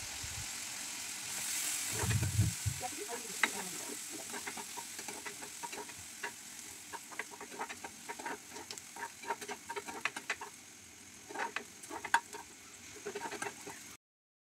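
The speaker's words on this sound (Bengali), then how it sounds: "এগুলোকে লাল লাল করে ভেজে ডালটা ঢেলে দিয়ে সম্বার দিয়ে নেব" Onion and chopped garlic frying in hot oil for a dal tempering, a steady soft sizzle with scattered crackles and occasional stirring clatter running throughout, close and moderately loud with no talk.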